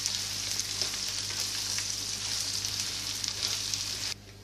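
Julienned carrots and green chilies frying in a pan, a bright continuous sizzle with faint stirring scrapes, close by, cutting off abruptly near the end with no talking.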